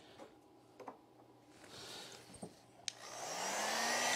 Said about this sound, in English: Let's use the blow dryer because it's not drying fast enough for me.